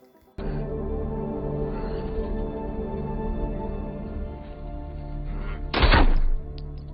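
A loud, sustained burst of gunfire from an action film, with a steady roaring barrage and one sharper, louder blast standing out near the end, no talk over it.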